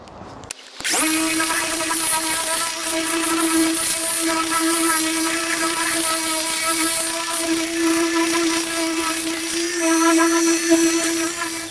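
Cordless oscillating Smartab EvoX car polisher starts up after a brief pause and runs steadily with a strong, close whine and hum while buffing car paint, holding an even tone to the end.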